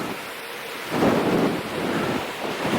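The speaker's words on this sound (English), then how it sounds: "the wind has turned on us" Strong headwind buffeting cyclists on a gravel bike road ride near Weymouth Bay, a loud rushing roar gusting against the microphone in uneven swells with no voices.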